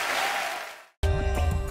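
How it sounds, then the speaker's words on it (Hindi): Studio audience applause on The Kapil Sharma Show, a brief burst that fades away, then a short gap before loud music cuts in. "जोरदार तालियां हो जाए एक बार"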